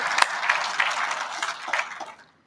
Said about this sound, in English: let's just all give everybody else a round of applause for coming here